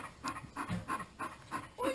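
A sick pet dog pants in quick, rhythmic breaths, about seven clear huffs close to the listener, with no talking over them.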